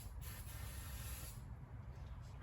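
Cleaner is sprayed onto a part of a Zodiac CX20 pool cleaner, a continuous close, quiet hiss that eases off toward the end.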